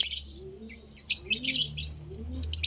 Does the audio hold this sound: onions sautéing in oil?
no